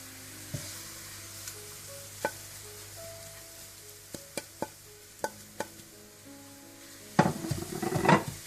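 Onions browning in a pot for degi chicken biryani sizzle steadily under sharp scattered clicks and scrapes of a spoon, then a louder burst of frying and stirring near the end.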